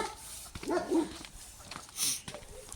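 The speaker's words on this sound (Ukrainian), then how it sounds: "Собаки." Dogs near a forest edge and chicken yard give a few short barks and yips, fairly faint and spaced apart, with a brief sharp high yelp near the end.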